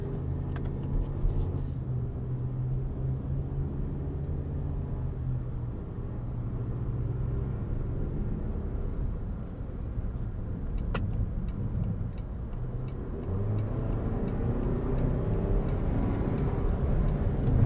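A 2023 Toyota Highlander Platinum AWD with a 2.4L turbo engine pulling under acceleration, heard from inside as a steady low rumble and road drone that swells slightly toward the end.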